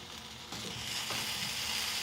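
Onions, ginger and garlic frying in a pan, a steady, moderately loud sizzle that grows denser as the ginger and garlic go in, with light stirring scrapes and no voices.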